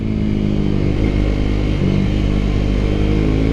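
A Triumph Scrambler 400 X motorcycle on a new owner's first ride pulls hard through the gears, its engine roaring loud and close with a steady, continuous drone and a brief dip around a shift.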